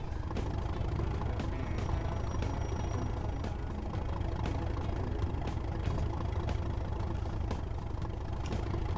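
A Class 37 diesel locomotive in Train Sim World 2 on the Tees Valley Line, its engine droning steadily and loudly while the wheels slip, with repeated sharp transient knocks and a brief high whine over the continuous low rumble.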